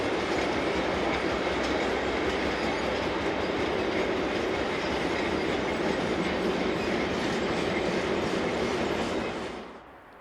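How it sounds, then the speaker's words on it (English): A freight train of empty wagons rumbles steadily past at close range with rhythmic clattering wheels, loud throughout before dropping off suddenly at the end. "heads train 49056 from Brooks to Bremerhaven, conveying empty wagons"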